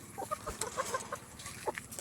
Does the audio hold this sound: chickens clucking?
yes